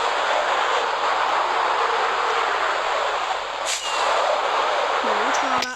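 A toy city's high-speed train gives off a steady, loud rushing roar that holds evenly for several seconds, and a voice briefly cuts in near the end.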